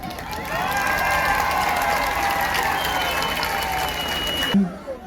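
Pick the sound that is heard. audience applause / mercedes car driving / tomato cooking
audience applause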